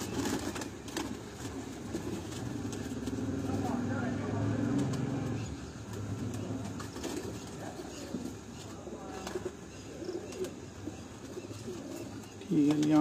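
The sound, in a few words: pigeon cooing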